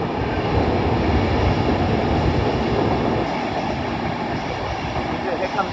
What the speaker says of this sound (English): the 1720 Avanti West Coast service to Manchester Piccadilly